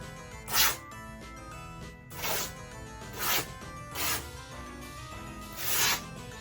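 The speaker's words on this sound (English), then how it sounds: "If they're older, you can probably just rip them yourself." Old bed sheets being torn into strips by hand, producing five separate short ripping swishes spaced about a second apart, fairly quiet and close, against a low background hum.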